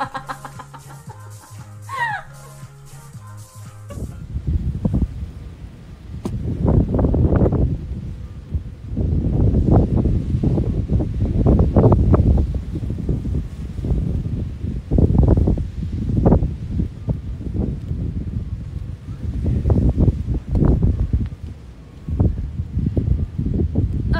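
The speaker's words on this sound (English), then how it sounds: "It's super, super, super fucking windy." Strong wind buffets the microphone in loud, uneven gusts for most of the clip, after a brief stretch of faint bird calls at the start.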